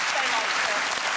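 Studio audience of a comedy talk show applauding, a dense, even wash of clapping from many people throughout the brief moment.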